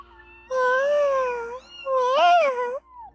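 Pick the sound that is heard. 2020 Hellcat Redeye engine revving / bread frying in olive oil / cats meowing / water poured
cats meowing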